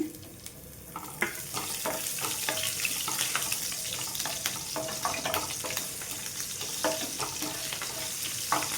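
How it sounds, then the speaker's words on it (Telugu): Four medium green chillies fry with cumin seeds in hot oil, making a continuous close sizzle with a dense patter of small pops and stirring clicks. "జీలకర్ర కొంచెం మనకు వేగిన తర్వాత ఇందులో ఒక నాలుగు మీడియం సైజు పచ్చిమిర్చిని అయితే వేసుకుంటానండి"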